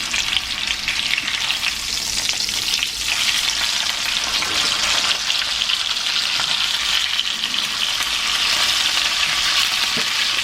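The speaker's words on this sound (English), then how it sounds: "You're almost done searing it." Beef for Beef Wellington sears in a pan with a loud, constant, close-up sizzle full of dense crackle, unbroken throughout and with no voices.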